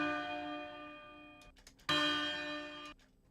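A custom bell sound effect for a stream game's list randomizer rings twice, a first struck tone fading, then a louder second strike with long sustained overtones that cut off abruptly; no voices.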